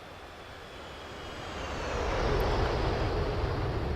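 An F-18 jet lands in a flight simulator game, a broad roaring jet engine wash that swells louder partway through and holds steady, with no voices.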